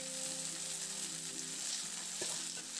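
Boiled flat beans fry with onions in a pan, giving a steady, moderately quiet sizzle with light stirring scrapes near the end.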